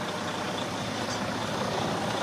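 A 2012 Western Star 4900SA dump truck engine idling, a steady broadband diesel rumble held at constant level, moderately loud and without voices.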